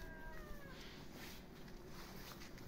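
A black kitten meows in a garden in Kemaliye, Erzincan, Turkey, a short, faint, rising cry near the start over steady outdoor hiss and low rumble.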